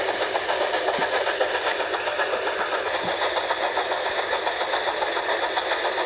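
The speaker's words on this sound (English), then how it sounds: "he saw another train, and at the front was who Thomas mentioned" A steady train engine chugs and hums loudly and continuously, with a faint clank or two over the constant drone.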